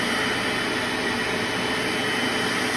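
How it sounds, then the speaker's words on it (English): A Bissell Little Green Machine portable carpet cleaner runs steadily at close range, a loud, unbroken whine of motor and suction with no voices. "my first time using Bissell's little green machine"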